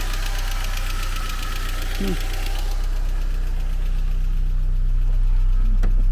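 A Saab 9-3 engine idles loudly and close with a steady rapid ticking, an even mechanical clatter running throughout.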